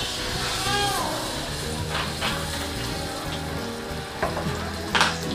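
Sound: oil added to pan with garlic and onion, sizzling

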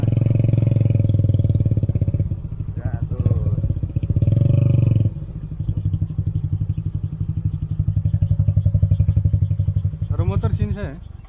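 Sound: motorcycle engine while arriving and parking

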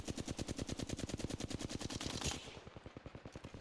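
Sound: gunfire in a video game

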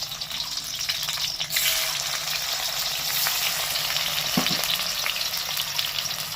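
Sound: tomatoes frying in hot mustard oil

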